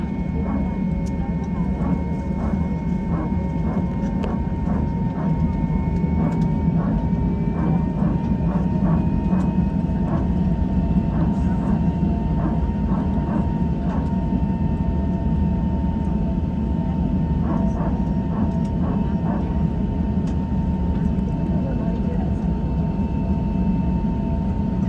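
Inside the cabin of an Airbus A321 on a night domestic Vietnam Airlines flight from Ho Chi Minh City to Cam Ranh, a steady loud engine and airflow roar drones on throughout, with faint thin tones and ticks above it.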